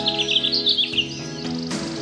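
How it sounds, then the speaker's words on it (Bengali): Small birds chirp and tweet beside a clear-water lake, quick bright calls repeating over a steady low background hum, fairly near and moderate in level. "পাখিরা শোনায় কিচিরমিচির।"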